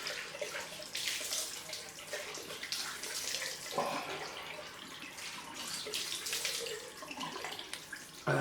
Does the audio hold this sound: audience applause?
no